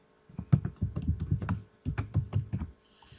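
Fingers tap out a password on a computer keyboard in two quick bursts of clicking keystrokes, close and clear, with a short pause between them and no talking.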